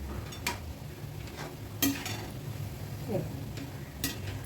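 Shankarpali dough pieces frying until crisp make a soft, low sizzle, broken by a few sharp clinks and scrapes from a spoon against the pan.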